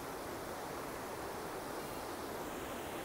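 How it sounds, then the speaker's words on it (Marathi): A river flows past a riverside ashram in Khopoli, heard as a loud, steady, dense rush of water without pause or change. "माझ्या पाठीमागे खूप सुंदर नदी वाहते"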